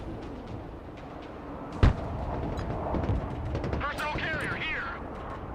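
Missile strikes in the Broken Arrow war game land as a sharp, heavy blast followed by rumbling booms and crackling debris, with a voice talking over the battle noise.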